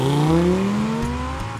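An Audi R8's V10 engine revs up with a rising, loud exhaust note, close and continuous. A second climb follows, with no voices.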